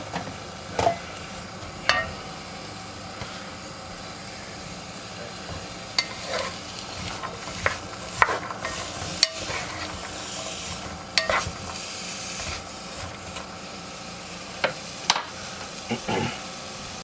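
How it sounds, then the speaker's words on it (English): Potatoes and onions sauté in a pot for potato and ham soup, giving a steady sizzle broken by scattered stirring clanks and scrapes. Faint talk occurs now and then. "We'll let this saute a little bit."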